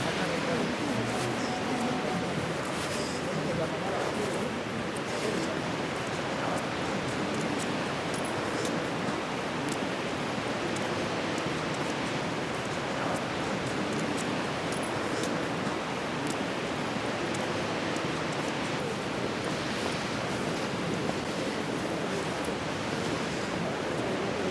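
Sea waves wash steadily along the Benidorm beachfront in winter, a broad continuous surf roar with some wind across the whole stretch, no clear voices.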